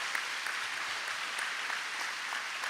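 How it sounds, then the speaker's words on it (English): An audience at a high school awards ceremony assembly claps steadily, a dense even wash of applause from a large crowd with no pauses. "give a round of applause to Dr. Steele for doing the fantastic job emceeing today"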